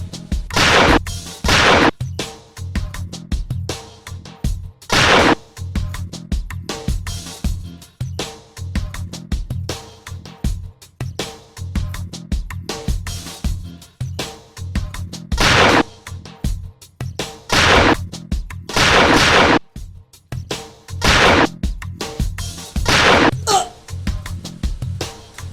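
Gunshots in a Haryanvi comedy film scene, repeated loud sharp cracks in rapid irregular bursts over the whole stretch, with brief voices between some volleys.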